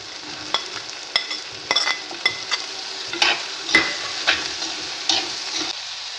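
Coconut pieces fry with shallots, dried chillies and curry leaves in a clay pot. Rhythmic stirring scrapes land roughly every half second over a soft, continuous sizzle, close by and with no voices.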